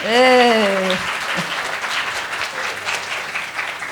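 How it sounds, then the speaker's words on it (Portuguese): A room of people at a diversity and inclusion ESG event breaks into applause, a brief voice trailing off at the start before dense, loud clapping fills the rest. "Merece um aplauso,"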